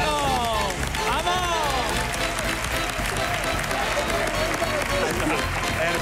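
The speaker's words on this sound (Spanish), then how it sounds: "Un aplauso fuerte para el público." A studio audience on a Spanish TV comedy show breaks into loud, sustained applause with cheers and whistles, filling the whole stretch at close range.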